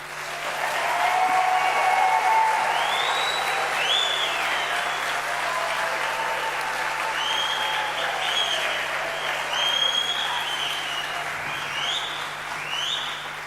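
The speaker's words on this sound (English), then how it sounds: "Can I request a round of applause and ululations by all of you in this place?" Sustained applause from a crowd at a University of South Africa graduation ceremony, with high warbling ululations rising repeatedly above the steady clapping throughout.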